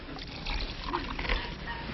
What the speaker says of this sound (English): Then he poured in some water.